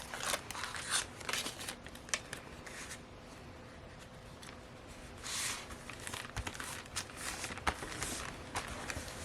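Scissors snip through paper while a character is cut out for a junk journal, with irregular crisp snips and paper rustling close up throughout, no talking.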